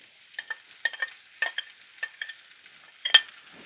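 Fried potatoes with onions in a pan being stirred and turned, giving quiet, irregular bursts of scraping and soft sizzling clatter with short pauses between strokes and no voices.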